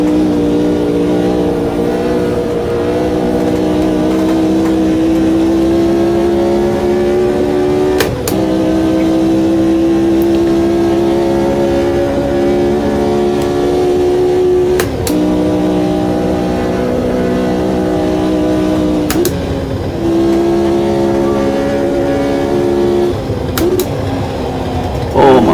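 Engines of 1960s classic race cars in the Automobilista 2 racing game at Spa drone continuously with steady harmonic tone, rising in pitch through each gear and briefly dropping at shifts, loud and close throughout.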